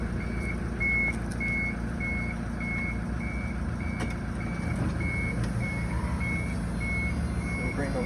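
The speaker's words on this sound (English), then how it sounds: "you just have to listen for 2 beeps, like so, and that means that the hoist is in the correct position" A Toyota Hiace diesel's wheelchair hoist sounds a regular series of short, even electronic beeps over a constant low engine idle, with a brief louder bump near the start.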